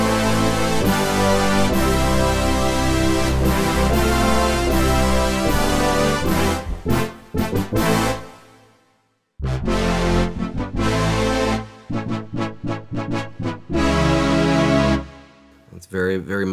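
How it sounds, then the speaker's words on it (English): Layered Yamaha TX816 FM synth and Prophet-5 brass patch playing loud sustained chords and stabs, with a brief drop to silence midway and a choppy, rhythmic passage near the end. "DX meets Profit Brass. These are layers of the TX816 with some Profit 5 layered in for extra texture."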